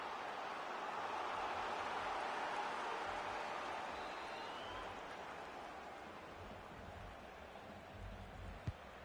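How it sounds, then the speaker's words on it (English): Stadium crowd in an EA Sports football game, a broad steady roar of supporters filling the background, swelling slightly and then easing, with no voices speaking over it. "Well, just listen to the crowd."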